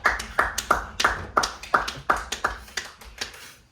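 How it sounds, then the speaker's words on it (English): A small group claps to welcome a special podcast guest, about a dozen distinct, loosely synchronized claps in a steady rhythm, close and dry. "So give us a round of applause here."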